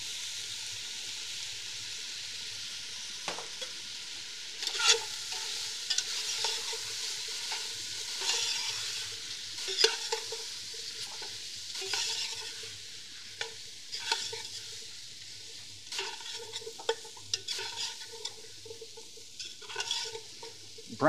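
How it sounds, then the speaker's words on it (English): A wooden spoon or whisk stirs flour into a roux in a hot pan, the quiet scraping strokes coming in irregular bursts over a faint, steady sizzle of fat. "Add flour and stir to make a roux."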